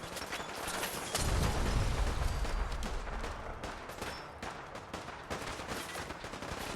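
Rapid automatic gunfire bursts in the video game Fallout 4, a dense continuous clatter of shots with a heavy low-end rumble early on, steady and loud throughout without speech.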